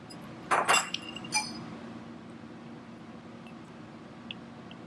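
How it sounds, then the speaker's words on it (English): A glass stirring rod clinks against a glass vessel while stevia and sorbitol are mixed, a few quick bright taps close together, then quiet room tone. "Mix it together with the glass stirring rod."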